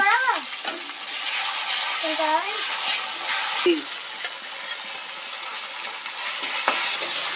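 A cumin and coriander paste frying in a pan at a village cooking fire, a continuous broad sizzle with occasional stirring clicks and brief high, gliding voice or cat-like sounds over it.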